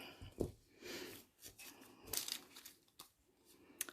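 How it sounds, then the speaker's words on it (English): Pinking shears crunch through a Project Life card in a few quiet, close snips, mixed with soft papery rustling and crinkling. "I am going to use my pinking shears for that"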